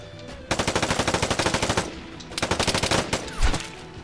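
Rapid automatic gunfire in the video game Vigor, two long bursts of evenly spaced shots with a short pause between them and a heavier blast near the end, loud and close.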